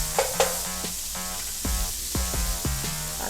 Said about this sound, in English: I'm just gonna start flipping these shrimps. And let them cook on each side.